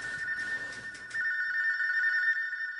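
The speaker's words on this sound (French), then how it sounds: "Le téléphone sonne de plus en plus fort." A telephone rings with a bright, sustained electronic tone, first over a low murmur of background noise and then alone after it drops away, fairly loud and close.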